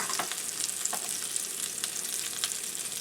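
Meatballs fry in a pan on a stovetop for Jamaican curry chicken meatballs, giving a steady close crackling sizzle with scattered sharper pops throughout and no talking.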